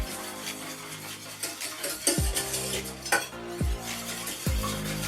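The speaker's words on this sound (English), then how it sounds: "And stir those both in, and we're still off the heat at the moment" Lemon curd ingredients stirred in a pan off the heat make irregular scraping and light clinks of a utensil against the pan, fairly close, with a low tonal background and no speech.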